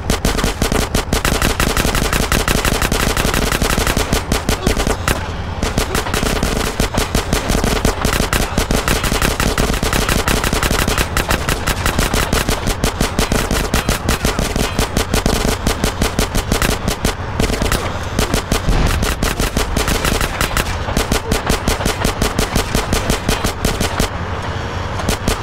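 Rapid, continuous automatic gunfire rattles loudly throughout a drive-by shooting in GTA San Andreas, with sustained bursts and only brief pauses.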